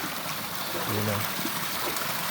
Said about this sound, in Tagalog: Dito na tayo sa Batis guys.